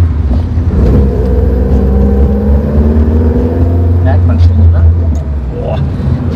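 A 1974 Alfa Romeo GT Junior engine rumbles loudly and revs up, close by, with people talking over the steady roar.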